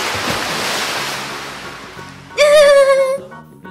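Cartoon cannonball jump into a swimming pool: steady wash of water noise, then a loud tonal splash effect with a bright ringing, descending pitch that stops abruptly, no speech.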